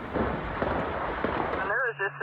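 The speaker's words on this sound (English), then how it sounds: "A deafening eruption tearing through a warehouse stocked with pyrotechnics" A huge explosion tears through a rural warehouse stocked with fireworks, heard as a loud, sustained broadband roar for nearly two seconds before it cuts away and a voice begins.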